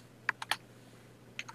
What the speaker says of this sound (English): And on my height, I'm going to type the number 6.